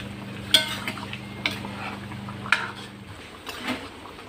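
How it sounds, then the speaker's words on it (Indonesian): Acehnese catfish curry stirred in a pot, a few soft scraping strokes and light clinks of a utensil against the metal over a low steady hum, close and alone without talk. "Lalu kita aduk."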